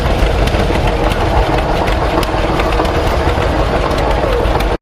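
A John Deere Model G tractor engine runs steadily at an outdoor expo, a continuous loud rumbling chug with a dense mechanical texture from start to end.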